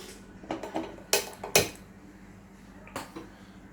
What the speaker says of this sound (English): take a pan, light the gas